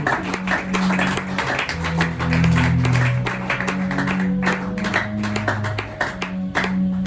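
A church congregation claps and applauds during a worship service on praise and adoration, a dense steady patter of many hands with sustained musical tones underneath.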